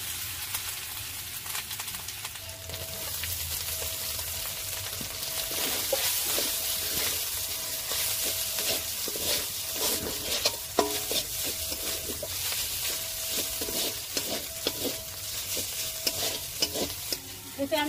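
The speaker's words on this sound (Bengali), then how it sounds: "এবারে ভালো করে নেড়ে চেড়ে ভেজে নেব।" Chicken pieces with ginger-garlic paste frying in a pan, a continuous close sizzle broken by repeated rhythmic scraping and stirring strokes of a spatula, without any voices.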